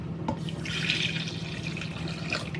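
About half a litre of water runs steadily from a tap into a container for a wheat-flour dough, a continuous close splashing stream with no talking.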